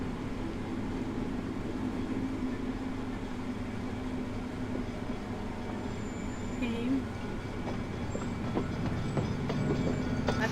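A train from the video game The Deed rumbles past with a steady low roar and faint clattering, loud and continuous, joined by a few higher metallic squeals near the end.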